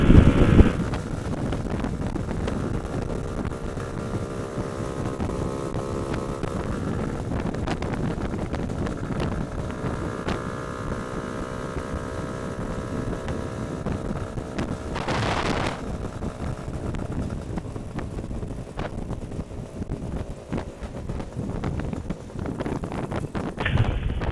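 A Lambretta GT300LC scooter engine on its first test run drones steadily at a fairly constant idle-to-mid speed, harmonic exhaust tones wavering slightly, with a brief louder rev burst midway and wind buffeting the microphone.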